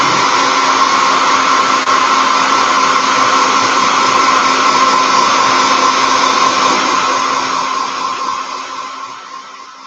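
A hair dryer blows steadily at close range, drying paint on a 1/72 Revell Sherman M4A1 tank model, a loud continuous whir that holds for several seconds and then slowly fades as it winds down.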